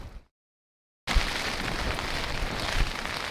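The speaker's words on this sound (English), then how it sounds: "We woke up to quite a bit of rain, some of which found its way into our tent." Rain patters steadily on a tent, a dense hiss of drops that starts abruptly after a short silence and keeps going close and fairly loud.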